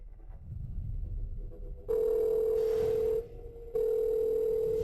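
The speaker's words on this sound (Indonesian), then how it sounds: "Baik, saya akan segera menelepon Yan Yan." A telephone call rings out as a steady electronic ringing tone, heard in two long, even bursts separated by a short pause, clear and alone after a low murmur of background noise.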